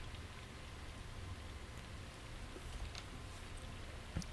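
Steady rain falls in the video game Symphonic Rain, an even, unbroken wash of drops with a few slightly brighter patters near the end and no voices.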